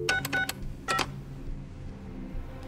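Telephone keypad tones from a Squid Game episode beep in a quick burst of four presses, then two more after a short pause, against a low, muffled background.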